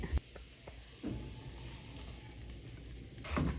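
Fine chiroti rava semolina roasting in ghee in a pan over low flame, a quiet steady sizzle with a few soft scraping stirs and a louder stir near the end.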